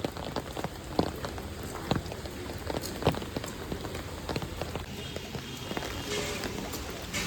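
Rain falls outside with a steady, faint patter on surfaces, sprinkled with sharper individual drips, heard from a distance.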